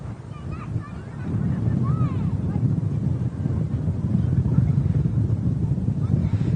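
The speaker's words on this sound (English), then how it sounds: "The wind is picking back up again as well." Wind at Manchester Airport buffets the microphone in a loud, low rumbling roar that swells and gusts continuously, with faint tonal traces in the background.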